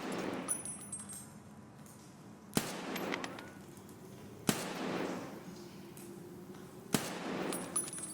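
Gunshots in the video game Escape from Tarkov, in single-player mode: three sharp, isolated cracks spaced a couple of seconds apart over a faint, steady background hum.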